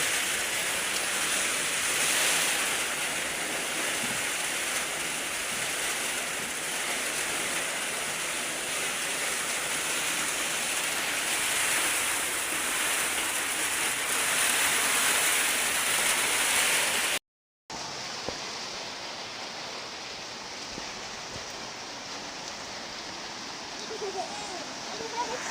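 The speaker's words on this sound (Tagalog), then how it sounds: "Lakas-lakas ng ulan." Heavy typhoon rain from Typhoon Kristine roars through the night as a thick, unbroken hiss, briefly cutting out before resuming somewhat quieter and steady to the end, with no voices heard.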